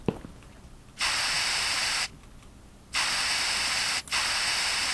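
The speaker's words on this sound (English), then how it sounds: "I am so sick and tired of spray paint." Spray paint hissing in a video game, in three long bursts of steady broadband hiss separated by short quiet gaps, fairly loud and with no talk.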